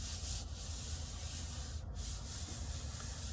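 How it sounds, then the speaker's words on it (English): Steady close rubbing and scuffing as a hand presses down the back of a paper polar bear cutout, a continuous soft swishing with no voices. "Rub the back so it sticks on really good."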